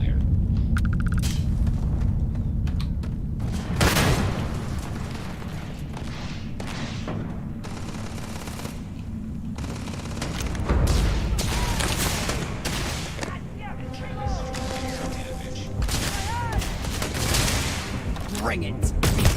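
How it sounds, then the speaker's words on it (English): Gunfire in the video game Starfield, repeated bursts of automatic shots and heavy thumps over a low rumbling bed throughout a long firefight, with voices speaking at times. "I'm opening fire."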